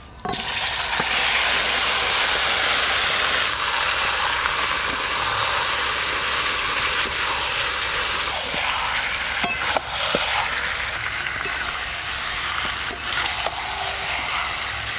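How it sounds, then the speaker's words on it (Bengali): Masala-marinated chicken pieces fry loudly in hot oil in a pan, a dense continuous sizzle with intermittent scraping and clicking as they are stirred, heard up close with no talking. "এই যে এইভাবে নাড়ছি, এতে করে মশলাও ভাজা হবে, সাথে সাথে চিকেনের পিসগুলোও ভাজা হবে মশলার সাথে"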